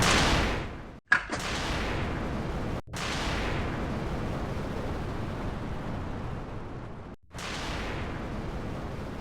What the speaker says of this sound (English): And liftoff of Endeavour on America's 50th space shuttle flight